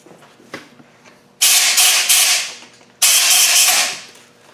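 Two loud bursts of aerosol brake cleaner sprayed into brake caliper bolt holes on a Land Rover front brake job, each hiss starting sharply and tapering off over about a second and a half, with a faint clink before the first.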